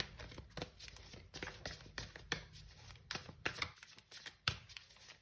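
Tarot cards are shuffled by hand in quick, soft riffles and slaps, a close, quiet run of irregular papery bursts with no speech.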